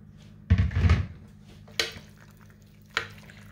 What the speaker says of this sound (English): You just stir it off in there.